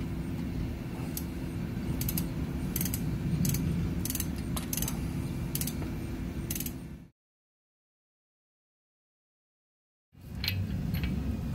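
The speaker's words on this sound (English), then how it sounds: "Tighten the brake caliper guide pin bolts to 21 pound-feet with a 10mm" A 10mm ratchet clicks in quick bursts as it tightens the brake caliper guide pin bolts during front wheel bearing work on a Chevrolet Sonic, over a steady low hum, then cuts to silence before resuming.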